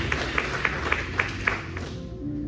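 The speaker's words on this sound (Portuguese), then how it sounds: "Aplauda o Senhor, meu irmão, porque Ele é Deus." Congregation in a church clapping in a steady rhythm, about six evenly spaced claps at moderate distance over a murmuring background. The clapping trails off near the end.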